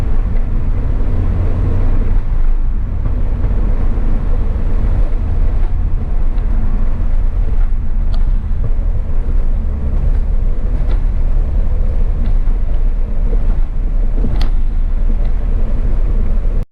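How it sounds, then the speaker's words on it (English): Straight-piped R56 Mini Cooper S in sport mode on the move, a steady loud exhaust drone with low rumble and wind buffeting over the whole stretch, no speech. "let me show you some rolling shots, when I'm driving, how the exhaust sound on sport mode"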